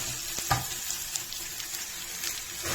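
Curry leaves, chillies and onion frying in a pan for padu give a steady close sizzle with scattered crackles and brief pops, and no voices.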